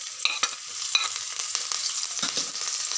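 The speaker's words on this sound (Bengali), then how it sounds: "তেল গরম হয়ে গেছে। এবার একে একে তেলের মধ্যে দেব রসুন কুচি, আদা কুচি," Chopped garlic, ginger and chilli hit hot oil for Bengali chilli chicken, giving a close, steady sizzle broken by scraping stirs and a few sharp spatters, with no talking.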